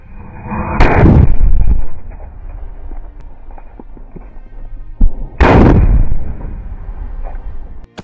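Two loud, sharp sutli bomb firecracker blasts a few seconds apart, each with a sudden crack and a short crackling tail over a steady background hum.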